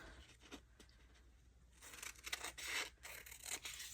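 Scissors cutting the paper ends off a scroll during a craft project, with quiet snips at first, then louder crisp cutting and crinkling toward the end, close and alone.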